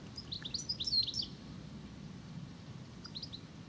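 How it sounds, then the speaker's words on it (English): Goldfinch song drifts in from the background on a countryside walk near Dorking among teasel and thistles. It gives faint, quick twittering phrases, a burst early on and another near the end, over low outdoor rumble. "As you can hear in the background, goldfinch is never far away."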